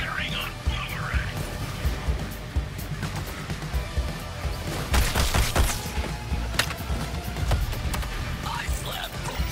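Gunfire in the video game Suicide Squad: Kill the Justice League, aimed at the character Boomerang: dense, sustained bursts of shots in a busy battle mix, with a heavier cluster of loud blasts midway, under a player talking.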